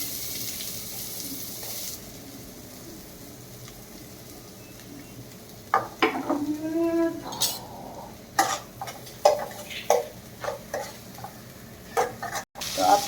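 Onions sautéing in a pan for pasta: a soft hiss of sizzling after a few seconds, broken by repeated stirring scrapes and clatters close by, with no talk.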